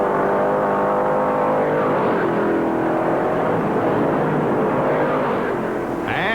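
NASCAR race cars at the 1964 Daytona 500 run flat out at about 175 mph on the high-banked track, a continuous loud engine roar with pitch sweeping as cars pass, and a sharp burst near the end.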